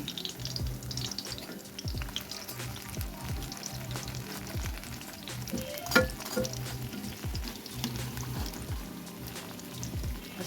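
Food frying slowly in a pan gives a soft, continuous sizzle with gentle crackles and occasional stirring scrapes, moderately quiet and close, with one brief louder clatter midway; no one speaks.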